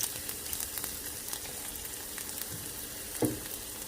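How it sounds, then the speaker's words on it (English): Vegetables sauté in hot oil on a stovetop with a quiet, steady sizzle, and a soft clink of a utensil near the end. "I'm going to saute it just until tender"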